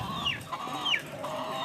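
Chickens on a poultry farm cluck and call nearby, with two rising squawks standing out over a low steady background murmur.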